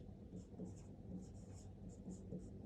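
Pen scratching out an equation during a math lesson, faint, quick strokes in short bursts with a low background hum beneath.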